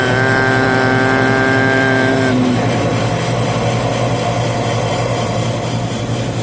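Air conditioning unit with the blower shut off, running as a loud, steady mechanical drone with a tonal hum that drops away partway through, leaving a broad continuous whir.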